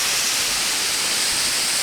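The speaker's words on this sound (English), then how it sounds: "just down below there is the waterfall" Tise Falls at Hanging Rock State Park pours below, heard as a steady, broad hiss of falling water with no talk over it.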